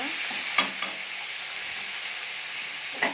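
Onions and tomatoes sautéing in a pan for a chicken curry give a steady, close hiss of frying, with a couple of short stirring scrapes breaking through near the start and end.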